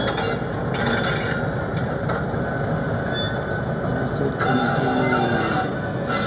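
The Shaktipunj Express is shunted into Howrah station, its wheels screeching and squealing against the rails over a continuous rumbling roll, loud and nearby throughout.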